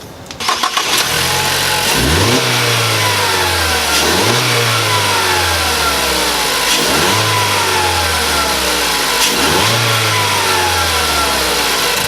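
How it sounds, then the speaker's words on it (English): A Ford Focus engine with a newly installed air filter fires up and revs repeatedly, rising and falling in several strong bursts over a steady idle, loud and close with no talking. "We'll give it one last fire up, see if we can hear any difference"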